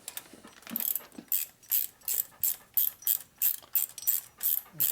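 A quarter-inch drive ratchet turns cylinder studs on a Harley S&S 113ci Evo motor, giving about a dozen evenly spaced bursts of rapid metallic clicking, close and crisp, with no talking.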